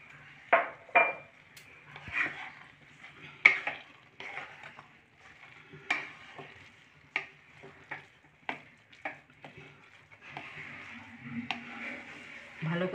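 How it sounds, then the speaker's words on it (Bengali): A spoon stirs thickened milk into grated carrot halwa in a pan over medium heat: irregular scraping knocks against the pan and a soft bubbling sizzle, close and moderate in volume, with someone talking between strokes. "ভালো করে দুধের সাথে মিশিয়ে নেব।"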